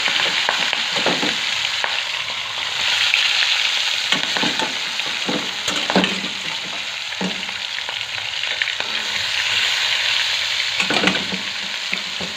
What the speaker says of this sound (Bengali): ভালোই গরম হয়ে গেছে তেল। এখন মাছটা ভেজে নেব।